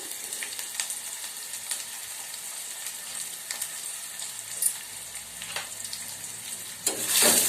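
Chopped onion and curry leaves fry in hot oil in a pan, giving a steady close sizzle with occasional stirring clatter and a louder burst near the end, no voices.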